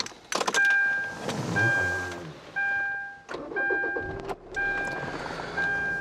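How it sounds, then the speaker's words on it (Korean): A 2.0-litre Hyundai Santa Fe with about 143,000 km on it is started from inside the cabin. Brief mechanical bursts are followed by a low engine hum, with repeated dashboard chimes and a few clicks over it. "차량 시동 한번 걸어보겠습니다."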